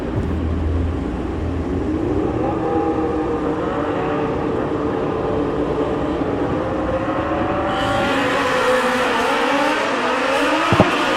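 A Suzuki Hayabusa and an old-school Suzuki GSX-R 1100 drag-race at a strip. Loud, sustained engine howl rises in pitch as they accelerate, with the noise intensifying and brightening toward the end.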